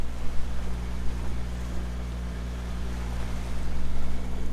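A sailboat motor sailing on Lake Erie, its engine a continuous low drone with wind and water noise over it, steady and close throughout.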